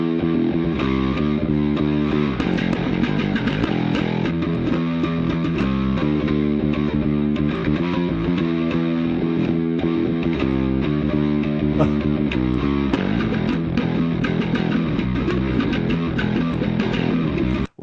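A distorted electric guitar plays the chorus riff in a dense, loud studio recording, with a steady chugging rhythm and no talking throughout.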